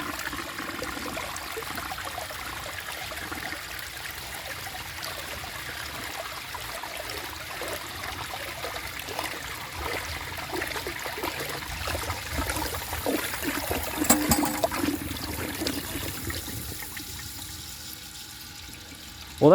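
A 1968 Montgomery Ward Waco toilet with a clogged siphon jet is flushed, producing a long, close sloshing and trickling wash of water that builds midway and gurgles before ending abruptly.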